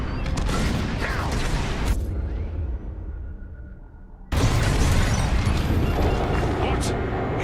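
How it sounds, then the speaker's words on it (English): Heavy rumbling blasts of bombs exploding in the space combat game Star Wars Squadrons, loud and dense, cutting out briefly and then crashing back in, with game voices talking over the din. "On my mark, it's bombs away."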